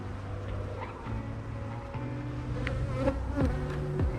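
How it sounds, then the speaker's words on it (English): Steady buzzing from many honey bees around an apiary fills the air, with individual bees droning past close by now and then. "And for some reason, all the bees seem a little tetchy."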